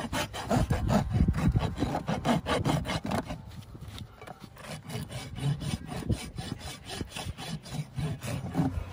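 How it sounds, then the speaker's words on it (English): A rasp filing a horse's hoof during natural hoof care, loud, coarse, rhythmic strokes in quick repeated runs with a short pause midway, heard up close and with no talking. "Clean it up with the rasp."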